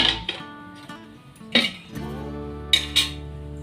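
Utensils clinking against a pan while dosa is cooked at home for breakfast: a few sharp metallic clinks spaced across the clip over a steady low hum, with no talk.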